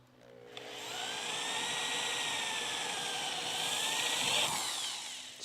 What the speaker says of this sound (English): I've never drilled spot welds in my life.